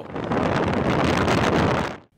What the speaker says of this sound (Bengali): এর প্রভাবে পটুয়াখালীর কলাপাড়া, রাঙাবালী, মির্জাগঞ্জ ও গলাচিপা উপজেলায় ব্যাপক বাতাস বইছে।